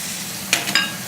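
Brief scraping and light sizzling as a fork stirs egg in the corner of a hot saucepan, two short bursts over a quiet background.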